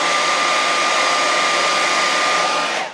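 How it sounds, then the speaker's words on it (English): A hairdryer blows steadily up close to dry paint on a statue, a loud continuous whirring hiss with a thin whine that cuts off at the end. "so what I might do is take the hairdryer again"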